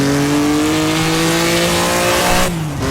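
A race car in Assetto Corsa accelerates hard out of a braking zone, its engine note rising in a loud, steady, close-up drone for a few seconds before it dips briefly near the end.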